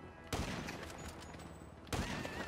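Gunfire in the video game GTA 5: two loud, sharp shot bursts, one early and one near the end, over a dense, busy game soundscape with no talk.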